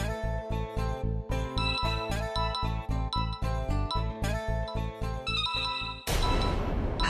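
A bright, chiming phone ringtone plays a repeated tinkling melody of evenly spaced notes, clear and close, ending in a brief burst of noise.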